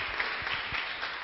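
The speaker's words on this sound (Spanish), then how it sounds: "Un aplauso" A brief burst of dense, steady clapping from an audience at a municipal oratory competition, welcoming a speaker to the microphone.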